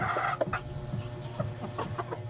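Hens in a farmyard cluck in short, quiet bursts, a steady uneven run of soft calls with some low background noise.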